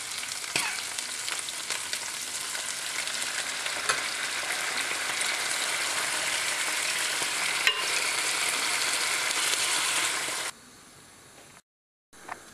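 Rabbit meat browning in a hot pan, a loud continuous frying hiss with occasional stirring clicks, which cuts out near the end.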